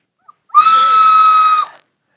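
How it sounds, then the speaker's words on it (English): One sustained high whistle tone, about a second long, loud and close, with a short click before it and nothing else around it. "And here's my train whistle."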